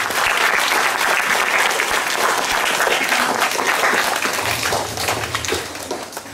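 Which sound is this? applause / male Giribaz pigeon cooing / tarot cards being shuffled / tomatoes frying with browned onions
applause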